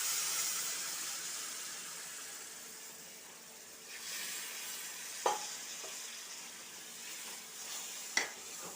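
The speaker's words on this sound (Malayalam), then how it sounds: "ഇതിലേക്ക് നമുക്കൊരല്പം ചൂടുവെള്ളം ഒഴിച്ചു കൊടുക്കാം." Hot water poured into a sizzling onion and spice masala for prawn biryani, giving a steady loud hiss and fry with soft stirring, plus a couple of sharp utensil clicks near the end.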